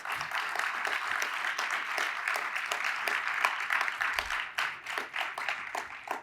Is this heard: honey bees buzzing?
no